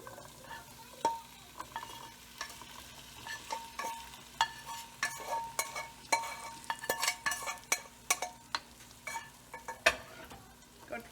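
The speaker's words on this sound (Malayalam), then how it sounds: "നമ്മൾ വേവിച്ച് വെച്ചിരിക്കുന്ന ഈ രാജ്മ ഇതിലേക്ക് നമുക്ക് ഇട്ട് കൊടുക്കാം" Cooked rajma is stirred into frying masala in a pan. A steady sizzle runs underneath repeated scraping strokes of a spoon against the pan, close and rhythmic, with no talk.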